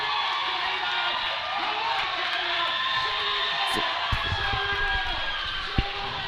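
Arena crowd at a powerlifting national championship, a steady dense roar of cheering and shouting that holds loud throughout, with scattered whoops and a few sharp bangs near the end.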